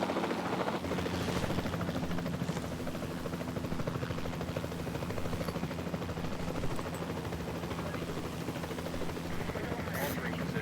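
A helicopter in the PC game Jurassic World Evolution 2 gives a continuous rotor thrum with faint gunfire pops. Someone talks over it throughout.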